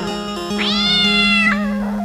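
A cat gives one drawn-out, rising-then-falling meow, clear and close, over a steady low electrical hum with no talking.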